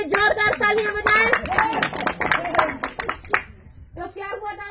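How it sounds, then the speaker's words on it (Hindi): Outdoor audience at a street play clapping in a lively burst, mixed with children's voices and crowd noise, then a brief lull before scattered claps and talk resume. "इनके लिए जोरदार तालियां बजाएं।"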